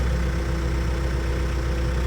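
A tractor engine idles steadily at a sawmill, a continuous low rumble with no breaks, close and even.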